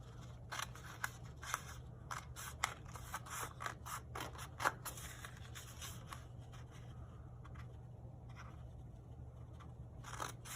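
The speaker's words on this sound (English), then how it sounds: "I'm going to cut along each of the lines" Scissors cutting along drawn lines in a sheet of paper for paper weaving: a close, quiet series of rapid snips and paper rasps, bunched in irregular runs with a steady low hum underneath.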